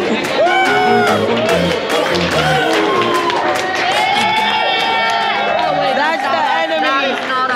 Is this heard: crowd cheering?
yes